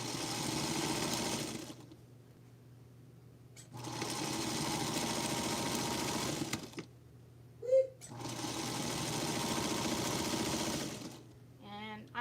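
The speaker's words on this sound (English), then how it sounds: "I'm a pedal to the metal kind of sewer. I sew as fast as I can." A sewing machine stitches Feathered Star quilt blocks at full pedal speed in three long, steady, droning runs separated by short pauses, with a small click in the second gap.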